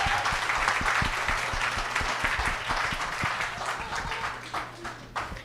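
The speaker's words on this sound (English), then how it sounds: "Big clap." A festival audience in a Toronto Distillery District venue claps warmly for several seconds, a dense patter with a few sharp individual claps standing out, easing slightly toward the end.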